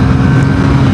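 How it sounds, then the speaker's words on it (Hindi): A loud, steady Triumph Tracker 400 motorcycle exhaust drone, a deep rumbling burble held for a moment with no speech. "इस बाइक का एग्जॉस्ट साउंड बहुत ही ज़बरदस्त है"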